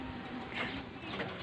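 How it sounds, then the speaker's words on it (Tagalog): Pet pigeons coo softly in a short burst, low murmuring calls close by against a quiet room hum. "ito yung unang nating vlog sa mga kalapati natin"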